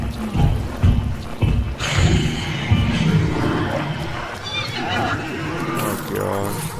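Horses neigh and whinny with hoof clip-clop amid a chaotic crowd in the game Hunt: Showdown, several loud cries overlapping with constant background commotion and some talk throughout.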